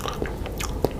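Close, soft chewing and a single brief crunchy bite into an edible Halloween brain treat, set against low background noise, with no talking.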